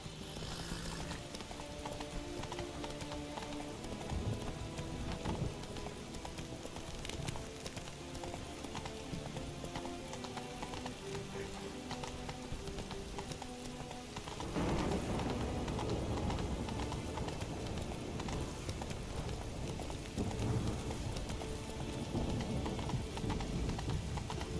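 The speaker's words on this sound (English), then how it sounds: "Run, Roach." Roach, a horse in The Witcher 3, gallops with a continuous rhythmic hoof clatter under a dense layer of game music and ambience, getting louder and busier about halfway through.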